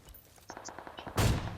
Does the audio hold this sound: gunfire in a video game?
yes